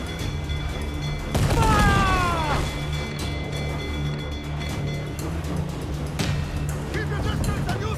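Cannon blasts in a video-game naval battle between sailing ships, a loud booming burst near the start followed by scattered later shots over steady game music, with in-game voices calling out.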